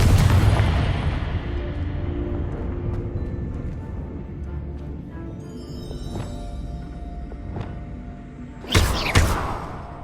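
A Confringo blasting spell bursts in Hogwarts Legacy, a deep booming explosion that rolls off into a fading rumble, with a second sharp blast and crackling burst near the end.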